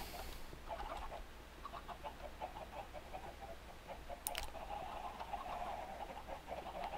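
Chickens in the Minecraft mod pack Redpower 2 cluck in short, repeated bursts over a steady low background hum, moderately loud and close, with no talking.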